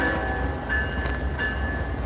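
Westbound train arriving at a trackside spot where several rail lines meet, a continuous loud rumble with a faint steady tone on top and no voices.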